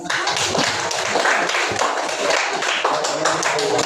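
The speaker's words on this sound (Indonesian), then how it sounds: "Silakan beri aplaus" A classroom of students applauds with brisk, steady clapping of many hands that runs dense and even throughout, close and moderately loud.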